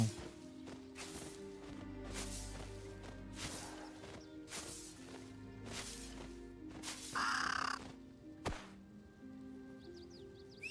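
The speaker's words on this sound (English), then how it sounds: "Got a crow." A crow caws several times in the fantasy game Ashes of Creation, sharp harsh calls standing out above a quiet ambient backdrop with soft thumps and footstep-like taps between them.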